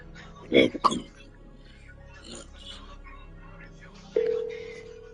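A phone call being placed, with a few short dial tones followed by a steady ringback tone, heard near and clear amid faint room noise and brief voices.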